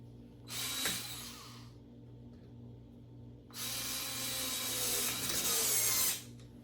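A Ryobi USB lithium screwdriver driving a 2.5 inch screw, with two close, whirring bursts of driving separated by a pause, the second longer and louder, and no talking.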